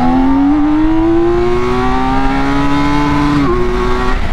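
A 2022 BMW K1600 motorcycle with a flashed ECU tune revs toward its RPM limiter: a loud, close engine drone climbs steadily in pitch, then dips briefly near the end.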